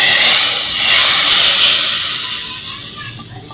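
A loud, steady sizzling hiss as hot tempering is poured into chana dal, fading slightly toward the end with no talking.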